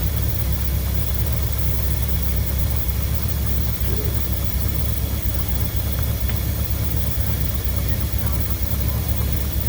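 A Mercury car engine idles after its Motorcraft 2100 carburetor was rebuilt, a steady low rumbling drone with a faint hiss, close and unbroken, with no voices.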